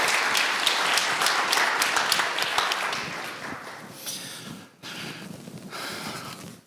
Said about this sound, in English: Let's just give all ourselves an affirmation round of applause for doing it.